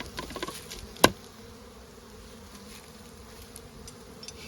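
Honeybees buzz in a steady, soft drone from an opened hive colony during an inspection, with a single sharp click partway through.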